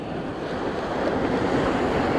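Steady roar of ocean surf washing continuously, broad and close, with a gusty rush like wind on the microphone.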